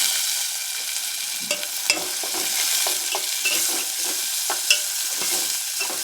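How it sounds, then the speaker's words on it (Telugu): A handful of curry leaves fries in hot oil for a cluster-bean curry, giving a loud, continuous crackling sizzle with scattered pops and stirring clicks, close up and without voices. "ఇందులోనే గుప్పెడు కరివేపాకండి."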